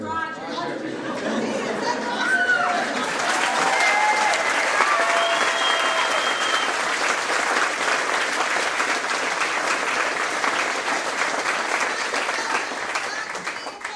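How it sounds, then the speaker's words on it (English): An audience applauds after a stage performance of the play Rosalynde, with sustained loud clapping and cheering that fills the room, mixed with crowd chatter and voices throughout. "offer up some congratulations and applause for Brother Rossiter"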